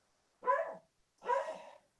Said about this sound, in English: I apologize of the dog barking in the background